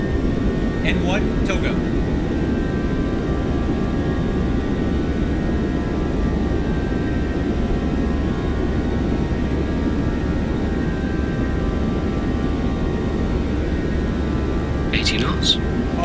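Boeing 737-800 jet engines spooling at takeoff thrust in a flight simulator game, a steady loud roar and hum throughout, with brief callout voices near the start and end.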